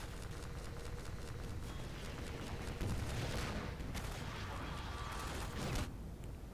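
Sniper fire in Half-Life 2 cracks out as a dense run of sharp gunshots over steady loud background noise, with a heavier burst near the middle and another near the end.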